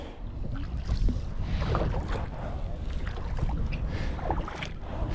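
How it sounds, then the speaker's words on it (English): Steady wind buffets the microphone while kayaking, a low, broadband rush, with faint water and paddling sounds underneath. "Oh, here it's nice and windy."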